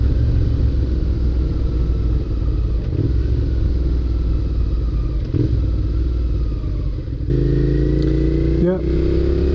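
A used motorcycle rumbles loudly and continuously during a test ride, its engine note shifting through the gears, with wind noise and a voice talking over it.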